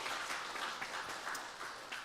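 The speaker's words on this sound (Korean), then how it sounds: "우리 수고하신 모든 분들께 박수 한번 하도록 하겠습니다" A church congregation claps for volunteers who cooked, packed and delivered meals, soft and somewhat distant applause with a few sharper individual claps, steady and fading slightly toward the end.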